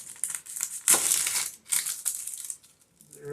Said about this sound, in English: I'm just going to start out by cutting up the onions